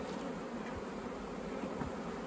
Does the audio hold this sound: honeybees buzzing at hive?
yes